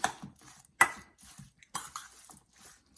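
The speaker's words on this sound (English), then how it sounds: "And you just stir them up." Turkey meatloaf ingredients being stirred in a bowl, a few close, separate scrapes and soft thuds in an irregular rhythm, with no talk.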